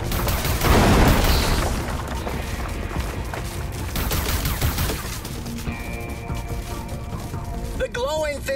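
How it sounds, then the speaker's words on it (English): Gunfire in the video game Far Cry 5 on Mars, aimed at arachnid nests: loud rapid bursts of shots and booms with electronic game effects, mixed under voiced game dialogue. "Shoot the nests!"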